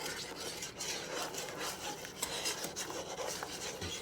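A spoon scrapes and rubs through thickening candied yam sauce in a Power XL cooker, a continuous rasping stir at close range with no talk.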